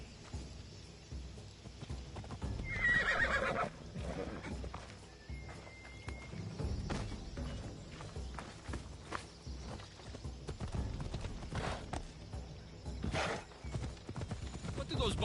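Horse hooves clip-clopping at a walk in Assassin's Creed Odyssey, a steady close rhythm with a brief whinny early on, set against game ambience and low background noise.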